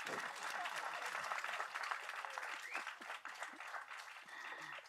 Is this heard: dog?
no